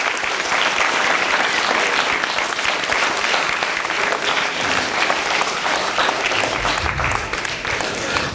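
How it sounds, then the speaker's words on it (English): Sustained, loud applause fills a school assembly for the performing classes, a dense crowd of clapping hands with faint cheers and a few voices underneath. "I'd like another round of applause for our classes,"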